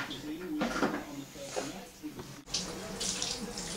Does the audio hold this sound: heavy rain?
no